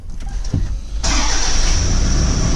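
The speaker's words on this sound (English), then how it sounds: "we'll start the car and try and get a listen for it." A Toyota Prado 150 engine cranks briefly, then catches and settles into a loud, steady running roar close by.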